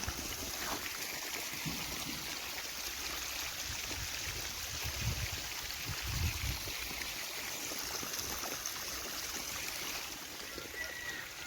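Irrigation water runs through a channel among sugarcane and sorghum crops on a farm estate in Saudi Arabia, a steady, close trickling and gurgling flow with a few soft splashy swells.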